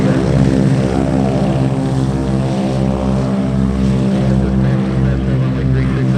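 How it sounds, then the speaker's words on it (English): A Mooney propeller airplane comes in to land on runway 36 at EAA AirVenture Oshkosh, its engine drone loud, close and steady, with a continuous low throbbing hum that holds for the whole stretch and no talk over it. "I think it's a Mooney there that's on our low left base, runway 36."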